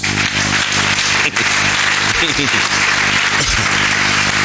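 A church congregation claps and cheers to acclaim Jesus during a Pentecost sermon, a dense, loud, continuous applause filling the room while a voice rises briefly over it.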